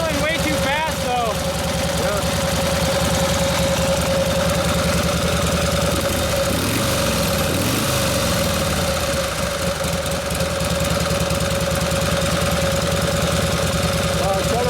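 A 1952 Harley-Davidson Panhead motorcycle engine with a Linkert carburetor idles too fast and steady, a constant mechanical drone running throughout, with some background noise and movement partway through.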